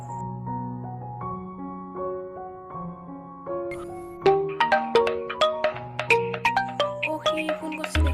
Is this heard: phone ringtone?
yes